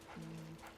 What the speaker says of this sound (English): wait for the barking to get the attention of someone else